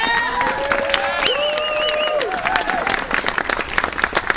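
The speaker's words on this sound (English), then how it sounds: "Round of applause, please." A crowd applauds and cheers at a live-streamed citizens oversight event, steady clapping overlaid with whistles and whoops that rise and fall, with voices mixed in.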